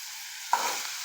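Fish hitting a hot griddle and bursting into sizzling after a moment of quiet, a close, steady hiss that holds to the end.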